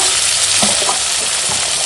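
Chopped tomato hits very hot oil, which had earlier been used for frying fish, in a Bengali home kitchen, giving a loud, steady sizzle throughout with a few scrape-like stirring touches. No one speaks.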